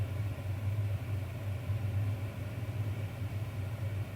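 A motorcycle rumbles steadily through the whole stretch, a low, continuous engine drone at moderate distance with a slight rise and fall but no sharp pass.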